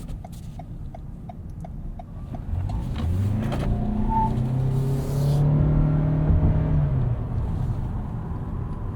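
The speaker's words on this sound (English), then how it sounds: "Let's try one more acceleration." A 2021 Toyota Camry XSE Hybrid rises steadily in pitch as it accelerates, a smooth whirring drone building over several seconds and then holding steady.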